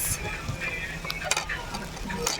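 A spoon stirring dry red chillies, green chillies, garlic, onion and moringa leaves frying in a pan for an Assamese chutney, with light scraping and faint sizzle, brief metallic clinks, fairly close and quiet.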